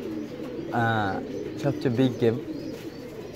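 Pigeons cooing in a pigeon loft, with several close, warbling coos in a run, and someone talking over them.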